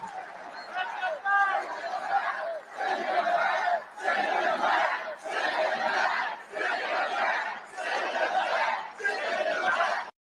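A rally crowd chanting in loud, rhythmic bursts, each shout of many voices repeating with short gaps, steady and close over roughly ten seconds.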